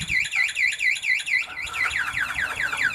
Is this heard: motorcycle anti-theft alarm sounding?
yes